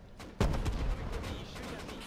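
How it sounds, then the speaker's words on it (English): In a video game, a Bradley tank fires a single loud, booming gunshot at close range, followed by a rumbling tail and a faint voice. "He's shooting at me."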